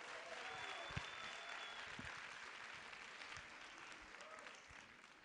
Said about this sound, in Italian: questo applauso è per voi.